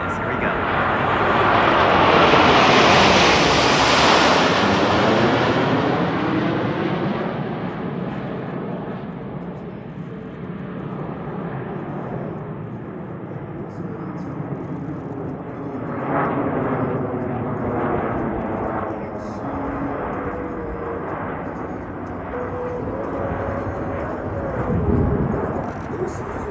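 Aerobatic team airplanes roar past at an airshow, a loud engine drone swelling and then fading as the formation sweeps overhead, with a softer rumble lingering afterward and another pass building near the end.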